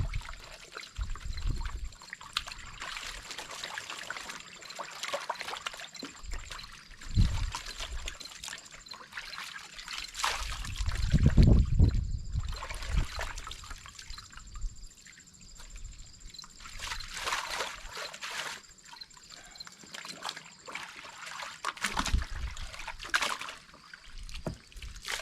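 A raccoon hide is washed and scrubbed by hand in water, with trickling, sloshing and splashing that swell and fade over a long stretch, one heavier surge midway, close and without talk.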